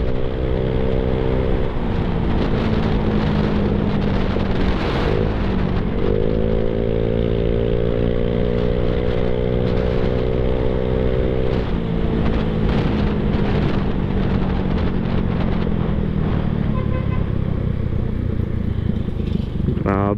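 Yamaha Mio Sporty scooter fitted with an Apido exhaust pipe, its engine droning loud and close with rising and falling revs through about twenty seconds, buffeted by wind noise against the microphone.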